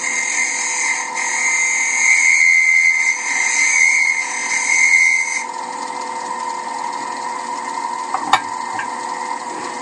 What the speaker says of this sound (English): I'm just going to take a light scrape with the side wing of a spindle gouge to expose fresh wood